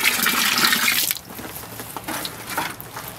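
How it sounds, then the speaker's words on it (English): Water is poured into pottery slip being readied for raku firing: a brief, close gush at the start, then a faint trickle with small splashes and drips. "I think I'm going to add just a little bit of water to it."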